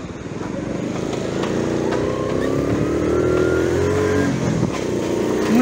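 Riding a motorcycle through a residential district of a Greek city: a loud, continuous engine drone with rising and falling pitch as the rider shifts and accelerates, with wind noise and passing traffic, no voices.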